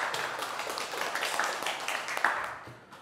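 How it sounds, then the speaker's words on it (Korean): Scattered audience clapping in a hall at a baseball study-abroad information session, a dense burst of hand claps that thins and fades over a few seconds with no talking. "박수 한번 보내줄까요?"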